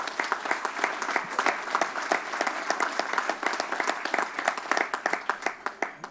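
An audience at a storm briefing held by Governor Cuomo at the Long Island Welcome Center gives a round of applause, many hands clapping steadily and close, thinning to scattered individual claps near the end.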